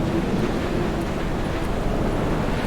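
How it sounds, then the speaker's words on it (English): Wind blows across an exposed height in the video game Dear Esther, a constant, fairly loud broadband rush with no voices over it. "awful windy up here"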